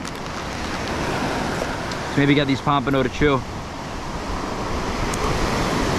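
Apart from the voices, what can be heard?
ocean surf waves on the beach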